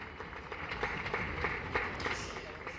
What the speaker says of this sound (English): A huge round of applause for the queen of Chianti Ultra-Trail by UTMB